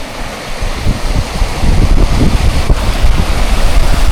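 Strong wind blows by Lake Rogen, buffeting the microphone with loud, gusty low rumbling that builds and stays steady throughout, with no talking.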